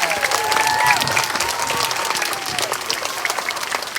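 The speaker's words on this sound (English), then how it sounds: "One more big round of applause for all of our performers." A crowd at a school Black History celebration claps loudly for student performers, a dense burst of applause with a few voices and cheers rising over it, then slowly thinning out.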